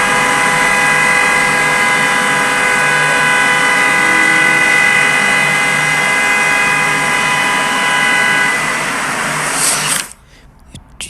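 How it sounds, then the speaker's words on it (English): A horn blares continuously for about ten seconds without a break, loud and steady, then cuts off abruptly into quiet. "For 30 seconds, straight 30 seconds, just a honking"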